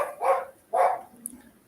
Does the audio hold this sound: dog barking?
yes